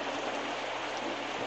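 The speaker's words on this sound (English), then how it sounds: "And it started raining." Steady rain falling in the video game Distraint, a continuous broadband hiss of drops that stays even and moderately loud throughout the short stretch, with no voices.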